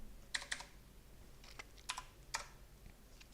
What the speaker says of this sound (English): And I'm gonna type it in